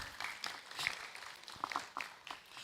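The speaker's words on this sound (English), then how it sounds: "Please give him a round of applause." Audience applause at a workshop: a brief spell of scattered clapping from a group, faint and somewhat distant, steady for a couple of seconds without talk over it.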